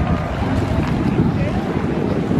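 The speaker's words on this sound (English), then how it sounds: "it is windy" Strong wind buffets the microphone outdoors at a graduation, a loud continuous low rumble with gusty surges throughout and no clear speech.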